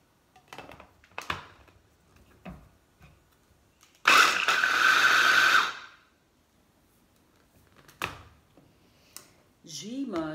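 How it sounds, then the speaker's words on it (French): A small manual food processor crushing walnuts and garlic gives one loud grinding burst of about two seconds, set among brief clicks and handling noises, with a voice speaking before and after. "je vais écraser les noix de Grenoble avec mon petit robot ici manuel"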